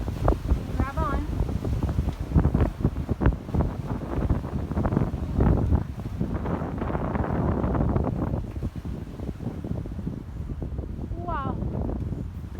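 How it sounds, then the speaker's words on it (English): Strong sea wind buffets the microphone aboard a sailboat between Guadeloupe and Puerto Rico, with gusty roaring and water sounds, and people talking over it. "Wind is between the 20s and the 30s."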